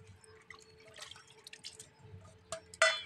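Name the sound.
washing fish roe in water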